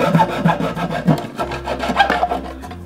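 A wooden board for an electric skateboard is hand-sawn, giving close, rhythmic rasping strokes of a blade through wood, several back-and-forth passes in a steady cutting pattern.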